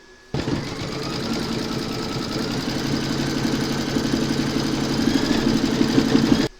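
An embroidery sewing machine stitches out a coffee-pot placemat design, starting abruptly and running in a steady, loud, fast mechanical chatter with a whirring hum for several seconds.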